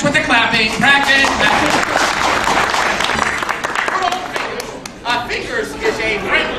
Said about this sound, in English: Until then, practice with the clapping.